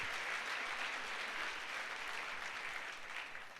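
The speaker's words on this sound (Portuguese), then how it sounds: "Dá um aplauso ao Senhor Jesus." A church congregation applauds during a service, dense continuous clapping from many people heard from a moderate distance, steady for a few seconds then easing slightly at the end.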